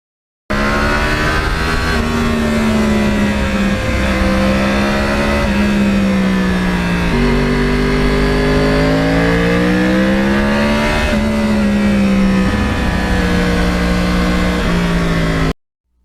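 A 2009 Yamaha R1 crossplane motorcycle engine revs up and falls back repeatedly, a loud, close, rough-edged roar that rises and dips in waves with no talk.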